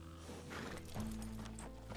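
Horse hooves clip-clop in the RedM western roleplay game, with a loud neigh over a steady low rumble of movement and ambient game sound, no talking.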